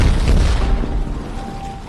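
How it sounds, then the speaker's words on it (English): A bomb goes off: one loud booming blast at the start that rolls into a fading rumble over under two seconds, with nobody talking. "Then an explosion went off."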